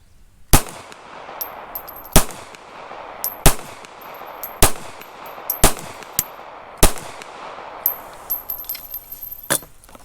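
Seven sharp pistol shots from a Taurus Spectrum .380 ACP firing Federal ammunition at a range, spaced roughly a second apart at a steady pace, with light metallic tinkling of ejected casings between shots.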